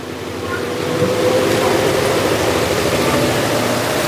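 A Godrej washing machine drains dirty wash water, giving a steady, loud gushing and churning rumble that holds throughout with no voices.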